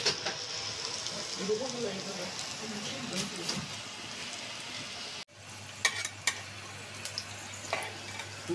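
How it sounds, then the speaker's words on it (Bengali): Lentil fritters with ash gourd leaves fry in hot oil, a steady sizzling hiss with occasional stirring clinks, while a voice talks over the cooking. "বড়াগুলি ফ্রাই হয়ে গেছে। আর একটু ভেজে নেব।"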